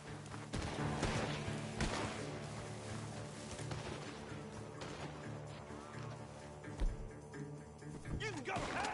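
Gunfire rings out from a barn during a shootout in the video game Red Dead Redemption II, with sharp bangs and thuds breaking through a dense, busy mix of game sound and voices over the full stretch.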